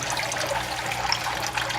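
Water steadily flows and splashes out of a basement aquaponics fish tank, a continuous close trickling rush at an even level with no talking.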